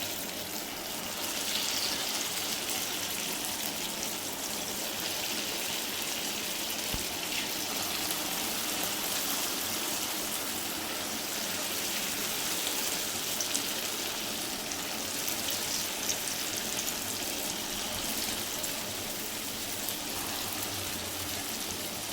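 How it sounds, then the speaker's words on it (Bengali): Rice flour pakoras sizzle in hot oil with a steady, broad hiss and crackle that stays even and close throughout, with no talking. "এবার এখানে ছাড়ছে গরম তেলের মধ্যে"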